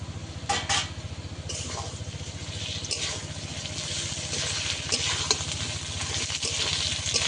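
Onion and potatoes sautéing with ginger-garlic paste in a pan for a fish curry, a steady close sizzle with repeated scraping and stirring clinks of a spatula against the pot, no talking.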